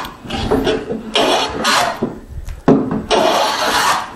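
A hand try plane runs along a wooden board edge in long, rasping strokes, several full passes separated by brief pauses, close and loud with no speech.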